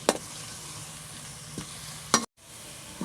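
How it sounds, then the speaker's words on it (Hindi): Finely chopped onions frying in a pan for an egg and onion curry, a low continuous sizzle broken by a few sharp scrapes of a spoon stirring against the pan. "इत्थे हुण प्याज की भुनाई कर लेने।"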